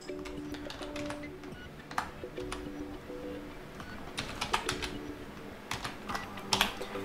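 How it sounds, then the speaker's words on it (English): Typing on a Lenovo IdeaPad 5 laptop keyboard, quiet close clicks in short irregular bursts with brief pauses and a denser flurry near the end. "And you need to type that into the search bar."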